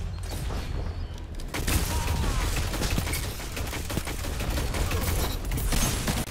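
Sustained gunfire rattles through a competitive PvP shooter match, dense bursts and booms piling up loud and close with no pause for the whole stretch.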